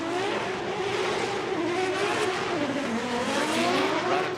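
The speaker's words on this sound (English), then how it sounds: "Running through the gears, initiates high in the bank." A Formula Drift car runs up through the gears at a PROSPEC Championship knockout qualifying round, its engine note loud and sustained with rising and falling pitch as it shifts, mixed with tire noise and no talk.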